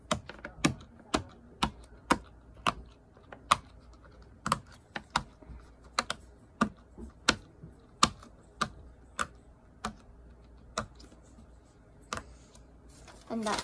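Square Pop-It fidget toy pressed on its quiet side, giving a steady series of short, close popping clicks at an even, unhurried pace throughout, standing alone with no talk.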